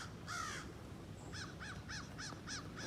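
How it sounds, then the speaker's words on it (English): Crows caw outdoors: one long harsh call, then a regular series of five shorter caws, moderately distant over faint background noise. "I got Rex into chasing crows"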